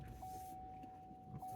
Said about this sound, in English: I got to start it first. Hear that? Hear it start up.